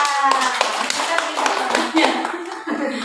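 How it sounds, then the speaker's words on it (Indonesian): A group claps in a classroom-style training session, a short run of scattered, uneven hand claps heard close by with faint voices underneath. "Ya, oke, tepuk tangan."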